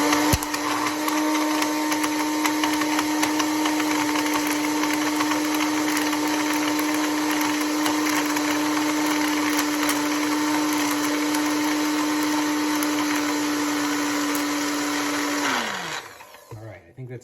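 A countertop blender grinds cashews with salt, a steady loud whir holding one pitch for about fifteen seconds before spinning down and cutting off near the end.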